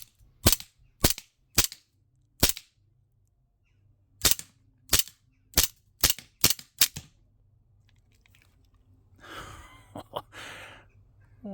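A KWC 1911 CO2 BB pistol with blowback fires about eleven sharp, crisp shots in irregular bursts with quiet gaps between them, followed by a brief rustle of handling noise.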